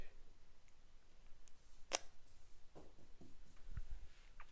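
Pen strokes on paper, soft close scratching in short bursts with one sharp stroke, as someone handwrites math working at a desk.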